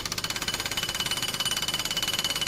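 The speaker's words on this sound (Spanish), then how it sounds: "Ese es el taladro." A power drill or hammer drill runs in rapid, steady rhythmic pulses, loud and close, with a gritty mechanical rattle and no voices.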